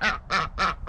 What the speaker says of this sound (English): let's let out the ducks and the chickens